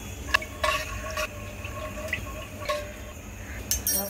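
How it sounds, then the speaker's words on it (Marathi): Chana dal in its soaking water is poured into a pressure cooker, a short splashing, gurgling pour with a few dripping spatters, close and clear over a low background hum, no talk. "तर हे पाणी आपल्याला फेकायचं नाही, हे चांगलं आहे। तर आपण तशीच कुकरमध्ये घालणार आहोत।"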